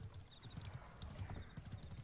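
Horse hooves clip-clopping in the video game Ashes of Creation, a quick steady rhythm of many soft hoof strikes running throughout at moderate, fairly quiet level.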